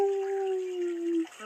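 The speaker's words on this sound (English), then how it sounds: "even the puppies howling in despair" Puppies howl in despair in the Gardenscapes garden game, a long sustained mournful tone slowly falling in pitch, then a brief whimpering break and short yip at the end, alone and fairly loud.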